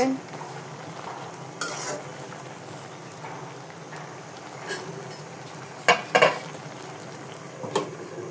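A spoon stirs taro leaves cooking in a pan over a low sizzle, with a few sharp scrapes and clinks against the pan, the loudest cluster coming late, no talking.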